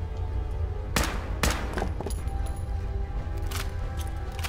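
Gunfire in Fallout 4 Automatron, several loud sharp shots in irregular bursts over a constant dense game background, no talk.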